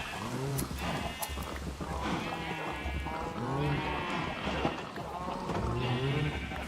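Several sheep bleat repeatedly in a Minecraft modpack game, overlapping wavering cries close by, with a low steady rumble and clicking game noises beneath.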